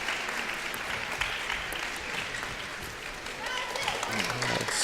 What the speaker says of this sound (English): You hear that cheering celebration.